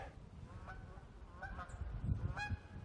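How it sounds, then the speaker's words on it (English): A goose honks outdoors, faint and distant, with about three separate calls spaced out over low background rumble. "I heard a goose"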